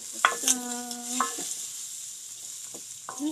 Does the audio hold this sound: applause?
no